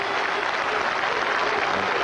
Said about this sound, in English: Jimmy Adams and the whole of the West Indian team stand to applaud him